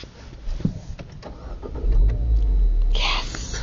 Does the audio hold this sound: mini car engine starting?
yes